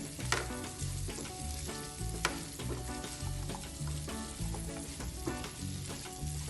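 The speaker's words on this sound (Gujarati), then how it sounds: "આપણું તેલમાં બરાબર બધા ગાજર મૂળા મિક્સ થઈ જાય" Grated carrots and radish frying in hot oil for an instant Gujarati pickle, a steady dense sizzle with repeated stirring scrapes and clinks throughout, close and fairly loud.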